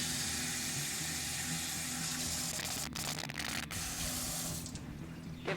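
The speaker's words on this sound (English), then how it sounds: "give that measuring cup a quick rinse" A kitchen tap runs steadily as a measuring cup is rinsed beneath it, a close, constant gush of water with brief splashy interruptions from the cup before the flow eases at the end.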